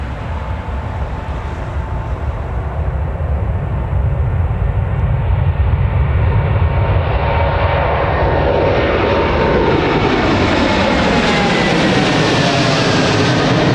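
A TUI airliner takes off at Newcastle Airport, bound for Bridgetown, with a loud sustained jet engine roar that builds and shifts in pitch as the aircraft rolls and climbs away, no voices.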